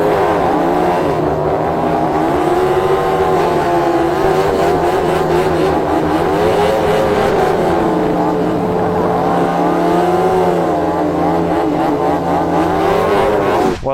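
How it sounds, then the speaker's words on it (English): A KTM Super Duke 1290 R motorcycle does a burnout, its engine held at a loud, steady high rev with slight wavering and pitch swells throughout before cutting off at the end. "It'd be great to see some burnouts to end the video."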